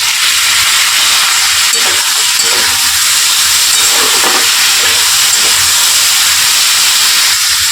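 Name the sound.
chopped tomatoes sizzling in a hot pan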